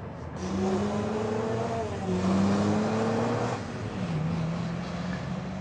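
A 1957 Chevrolet taxicab engine drones steadily with rising and falling revs as it drives, loud and close throughout, with no talking.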